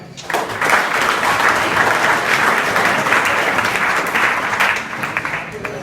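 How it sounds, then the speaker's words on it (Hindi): Schoolchildren at a school in Bhaduli, Azamgarh, Uttar Pradesh burst into loud, dense applause that holds steady for several seconds and then thins slightly, with a few voices mixed into the clapping. "एक और जोरदार ताली"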